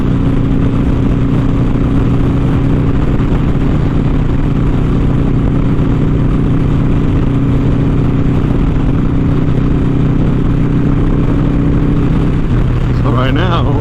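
A motorcycle rides in highway traffic at about 80 mph, its steady engine drone blended with heavy wind rush throughout, while a rider talks over the noise.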